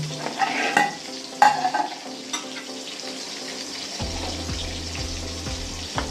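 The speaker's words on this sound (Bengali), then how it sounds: "আমি এবার পটল ভাজাগুলো ভেজে নেব" Steady sizzling of pointed gourd slices frying in hot oil, with occasional clinks and scrapes of a utensil stirring the pan.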